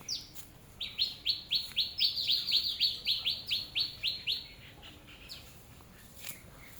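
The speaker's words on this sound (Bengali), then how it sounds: "পাখিদের কিচিরমিচির কিন্তু আসলেই ভালো লাগে।" Small birds chirp in a village, a rapid run of about fifteen bright, evenly spaced tweets close by, followed by a few scattered calls against a quiet background.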